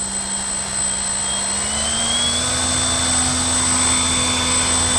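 A 3D-printed 11x5 propeller spins on an electric motor at half throttle during a thrust test, giving a steady, loud, continuous whirring drone with a rising tone early on, heard alone.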